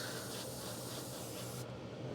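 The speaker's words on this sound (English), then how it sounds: "Maybe I picked the wrong airbrush. This has a very small needle on it, but we're gonna end up with a much more vibrant red." Airbrush with a small needle spraying red paint onto a 1:8 scale Aston Martin DB5 model car, a soft, steady airy hiss that drops away near the end.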